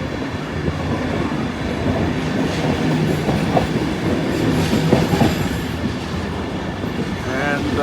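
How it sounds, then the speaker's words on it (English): Sydney Metro train standing at the Sydenham station terminus, a steady loud rumble of rail equipment with a few clanks and a brief squeal near the end, continuous and close throughout. "Sydney Metro currently sitting there at the terminus"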